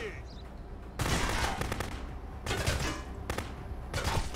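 Bursts of rapid gunfire ring out in the video game Contraband Police, several loud volleys of shots in quick succession with short gaps between them, heard alone with no talking.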